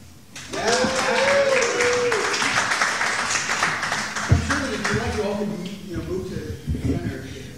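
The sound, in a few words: audience applause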